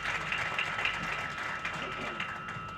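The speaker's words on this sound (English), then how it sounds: "I think we deserve a round of applause" An audience at a club's 80th anniversary celebration breaks into steady, dense applause that fills the whole stretch at an even level.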